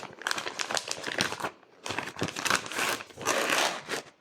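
Plastic packaging crinkles and rustles in bursts as a Totoro manga canvas is unwrapped, close and fairly loud with a brief pause partway through.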